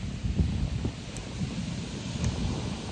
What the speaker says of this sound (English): sitting in front of the beach and watching the waves